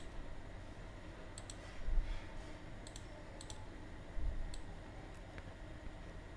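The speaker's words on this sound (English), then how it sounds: "So just double click it to extract this zip file." A computer mouse clicks several times in quick pairs, faint and close against a quiet hiss, as a zip file is double-clicked to extract.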